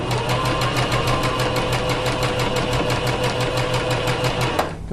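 Close up, a sewing machine stitches through fabric with a fast, steady mechanical chatter of evenly spaced needle strokes over a motor hum, running continuously before stopping abruptly at the end.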